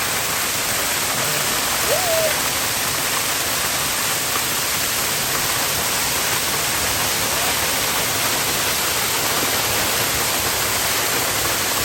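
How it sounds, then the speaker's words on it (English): A waterfall at Rock City on Lookout Mountain, overlooking Chattanooga, sends out a loud, steady rushing roar that fills the whole stretch without letup. "Look, there's another waterfall now."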